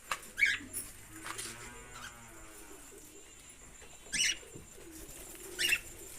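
Soft, low cooing of pigeons repeating at intervals, with a few brief sharper chirps or flutters nearby in a quiet space.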